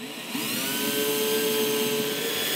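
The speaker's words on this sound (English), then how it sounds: "Before I can permanently install the skeg, I first need to drill a hole for the rudder shaft." A power drill bores a pilot hole into sailboat planking for a rudder shaft ahead of a 1-inch Forstner bit, a steady close whirring drone holding for the whole stretch with no talking.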